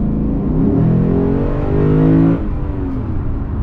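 A 2021 Lexus RC F Carbon with its V8 pulling hard on an open road, loud engine note climbing steadily in pitch under heavy throttle before easing off suddenly.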